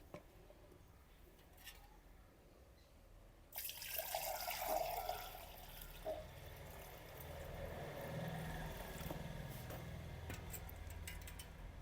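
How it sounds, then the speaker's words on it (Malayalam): Water is poured into a container to dilute a homemade ash-and-waste fertilizer mix for bougainvillea plants, a sudden gushing splash that settles into a steady trickle, close but fairly quiet. "ഇത് ഡൈല്യൂട്ട് ചെയ്യാനുള്ള വെള്ളം കൂടെ ഒഴിച്ചു കൊടുക്കാം"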